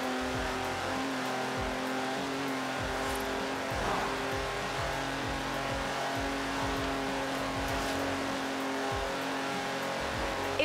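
A classic British sports car with a D-Type-derived design drives in Forza Horizon 4, its engine droning steadily with harmonic tones, repeated low thuds and occasional tire noise, loud and continuous throughout.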